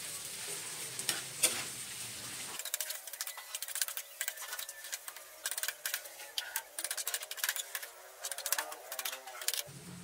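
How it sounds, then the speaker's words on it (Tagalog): Hotdogs sauté in a hot pan with a steady, crackling sizzle that runs throughout, broken by sharp ticks and scrapes of stirring. "Paluluin lang natin yung hotdog hanggang maluto mga lodi."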